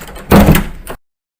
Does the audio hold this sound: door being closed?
yes